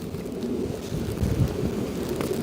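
Steady wind buffeting and rumbling against the microphone, a constant low roar with gusty swells and no voices.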